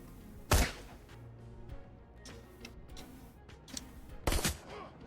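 Two sharp, close pistol shots from the game Shadowrun: Hong Kong, spaced about four seconds apart, with faint ticking and clicking effects in between and no talk.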